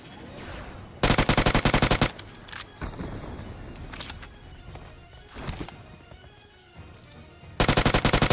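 Video game gunfire in a battle royale squad fight, with long loud bursts of automatic fire at the start and end and scattered nearer and farther shots between them.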